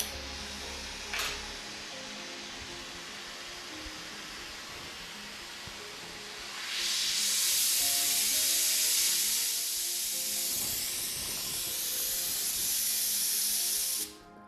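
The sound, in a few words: gas welding torch flame hissing while welding chassis joint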